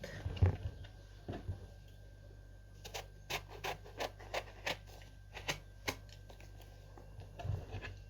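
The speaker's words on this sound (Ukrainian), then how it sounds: "Отак ріжу навкоси. Отак. Тільки не до кінця прорізаємо." A knife slices a trimmed vegetable diagonally on a cutting board, giving a steady run of soft, evenly spaced taps and scrapes with a few stray knocks before it, all close and fairly quiet without talk.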